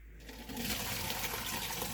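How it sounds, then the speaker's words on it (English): Water gushes steadily through a strainer while washing beans for moi moi and akara, a sudden rushing pour that starts after a brief quiet moment and continues close by. "pour the water into the strainer so that the skin of the beans that is on top of the water can go into the strainer"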